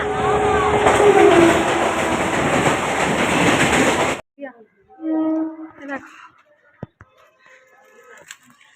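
A loud, steady train rumble fills the first half, then cuts off abruptly to near quiet as the train stands at Bauria station, with nearby voices and a few scattered knocks.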